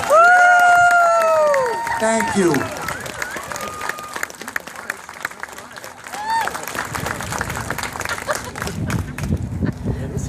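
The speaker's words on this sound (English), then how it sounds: "Please give them a round of applause." A crowd claps and cheers steadily throughout, with a voice speaking briefly over the applause near the start.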